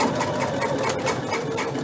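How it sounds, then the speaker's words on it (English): A sewing machine stitches a belt with a steady, rapid mechanical chatter running close and continuous throughout, no talking over it. "I'm just going to backstitch a time or two to make sure that's extra secure"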